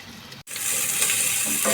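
Cumin seeds with chopped garlic, ginger and three green chillies hit a hot pan and fry with a steady, bright sizzle after a brief pause, close and continuous with no talk.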